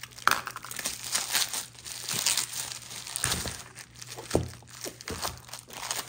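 Cardboard box being cut open, with crinkling, scraping and crunching bursts of cardboard and packing material, close and uneven over several seconds.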